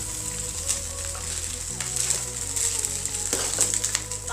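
Veg pulao stirred and frying in a pan, a steady close sizzle with soft scraping and clinks of the spoon running throughout, no talking.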